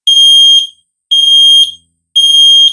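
ZEN smoke alarm sounding a test after its center surface is pressed: three loud, shrill electronic beeps of about half a second each, evenly spaced, close and alone with no talk.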